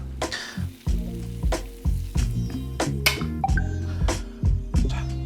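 Shrimp frying in hot oil for Korean-style gambas, a steady close sizzle with repeated stirring scrapes and clatters of a utensil in the pan, no voices over it.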